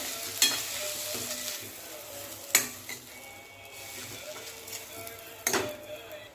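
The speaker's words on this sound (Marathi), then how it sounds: "हे पण छान असं कमी गॅसवर भाजून घ्यायचं" Modak filling roasts in a pan on a low flame after saffron milk is added, giving a soft sizzle under a few sharp spatula clanks against the pan, with no voice heard.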